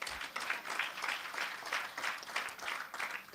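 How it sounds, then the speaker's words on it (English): Audience applause at a town hall people's forum in Kingston and St Andrew, a steady wash of many hands clapping that holds throughout without pause. "So as we begin, round of applause."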